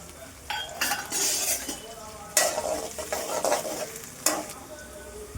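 Tempering of mustard seeds, fenugreek, onion, garlic, dried red chillies and curry leaves in hot oil for a garlic pepper kuzhambu, with steady sizzling, repeated spoon scrapes and clinks against the pan, close and moderately loud.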